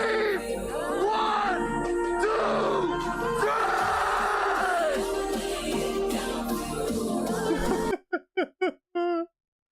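A festival crowd at EDC screams and cheers loudly together for about eight seconds, then it cuts to silence broken by a few short, clipped vocal bursts.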